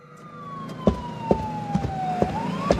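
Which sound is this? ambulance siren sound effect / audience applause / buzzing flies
ambulance siren sound effect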